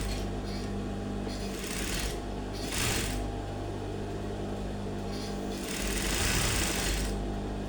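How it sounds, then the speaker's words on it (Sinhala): A sewing machine stitches the folded seam allowance on a crop-top blouse, a steady mechanical whirr running in several bursts with short pauses between them, close and moderately loud. "මැහුම් වාසිය අපි මෙන්න මේ විදිහට මහගෙන ඉන්නවා"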